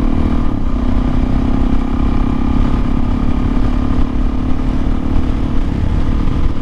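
Kawasaki KLX 400 motorcycle on a test ride, engine droning loud and close at a steady, even pitch with a constant rumble and no speech throughout.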